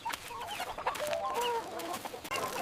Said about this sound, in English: It's time to feed the chickens.